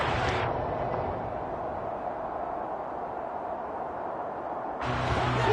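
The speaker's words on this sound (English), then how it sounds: "Crowd getting in it a bit already." American football stadium crowd, a distant wash of cheering and murmur that swells louder at the start and again near the end, with a quieter steady crowd hum between.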